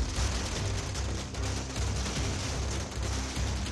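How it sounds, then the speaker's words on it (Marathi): Firecrackers set off by celebrating MNS workers outside Thackeray's house: a dense, continuous stream of cracking bursts, loud and near, packed so tightly the pops blur into a steady crackling roar for the whole stretch. "मनसैनिक फटाके फोडत या निर्णयाबद्दल जल्लोष करतायत"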